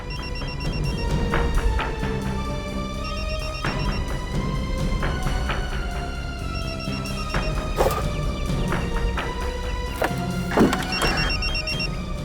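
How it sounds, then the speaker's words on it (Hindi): A mobile phone rings from inside a metal post box on a street, its repeated bright electronic ringtone pulses sounding clearly over background music with no talking. "सर मोबाइल के बजने की आवाज आ रही है।"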